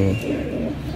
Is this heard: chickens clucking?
no